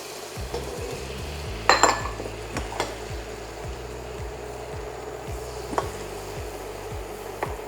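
Flour is stirred into melted butter in a pan, with a utensil scraping and tapping against the metal in a steady rhythm over a soft, continuous sizzle. There are a few louder clatters near the start.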